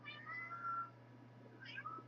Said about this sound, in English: my cat meows a lot because I talk to her all the time